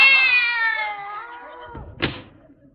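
A cat meows from inside a desk drawer in an old radio comedy: one long, wavering, downward-sliding meow, close and clear, followed by a short thud near the end.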